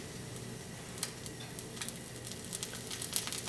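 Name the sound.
eggs frying in a pan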